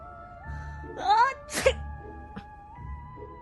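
A loud sneeze from a woman in a Hindi audio drama, a sharp burst set among the soft background music and sound effects of the scene.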